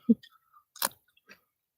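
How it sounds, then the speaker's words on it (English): Someone bites into a fresh garden-grown chili pepper, with a few close, distinct crunches and chews spaced apart in near silence. "No, I think they can hear the crunch."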